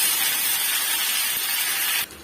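Curry leaves dropped into hot oil for tempering a spinach dish, giving a loud, steady broadband sizzle close to the pan that cuts off sharply near the end.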